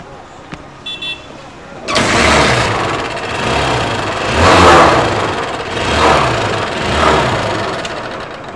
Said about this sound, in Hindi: तो चलिए बाइक को स्टार्ट करते हैं